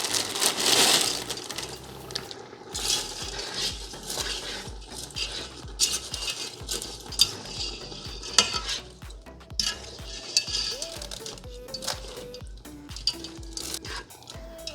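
Pancit Canton noodles tossed and stir-fried in a pan, with a soft steady sizzle under repeated scraping and stirring strokes, close and moderately loud throughout.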